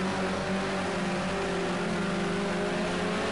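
A BMW race car in Project Cars 2 (modern touring car at Oulton Park) holds a steady, loud engine drone with a constant pitch, running hard along a straight without a break.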